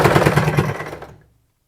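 A sewing machine stitches a fabric strip for a blouse neck tie in one rapid, rattling burst of about a second, close and loud, before stopping.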